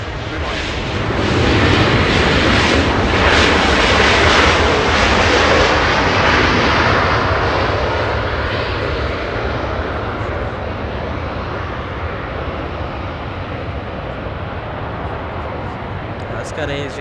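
Airliner landing at Los Angeles International Airport, a loud rushing engine roar that swells early, then slowly fades to a softer sustained rumble as it passes.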